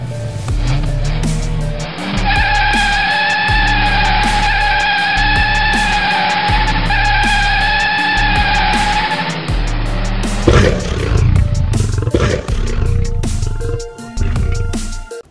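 A car with a suspected worn suspension ball joint makes a loud, sustained squealing and creaking under a rough engine rumble in a garage, with repeated knocks and clunks toward the end, heard close up with no talking.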